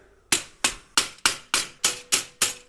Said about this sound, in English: It's me hammering some tabs out of the way.